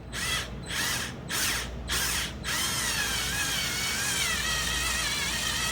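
A power drill with a 1/4-inch drive bit and socket turns a bolt extractor stuck in a broken bolt, first in several short whirring bursts, then in one long continuous grinding spin, loud and close.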